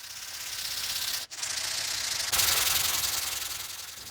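Close, continuous scraping of 220 grit sandpaper rubbed over a vintage hand plane blade, broken by one brief pause before the rasping resumes, slightly louder.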